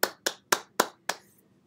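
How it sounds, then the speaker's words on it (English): Five sharp, separate hand claps at a thesis research presentation, spaced roughly a quarter-second apart, close and fairly quiet, fading out after the last one with no voices. "let's give Noel a round of applause"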